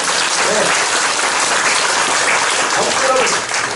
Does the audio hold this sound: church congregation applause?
yes